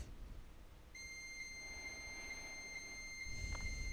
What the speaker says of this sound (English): Okay, the modem downstairs picked up.